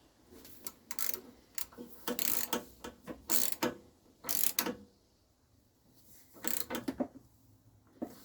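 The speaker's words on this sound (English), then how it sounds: "There we go, the new spark plug is installed." A new spark plug being installed on a snowblower engine, with a series of quick ratcheting clicks in short bursts and pauses, close and fairly quiet, a socket wrench tightening the plug.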